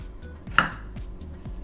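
A knife chops through washed tomatoes and peppers on a cutting board, with three or four steady, evenly spaced thuds and one sharper, louder strike near the middle, close up and with no voices.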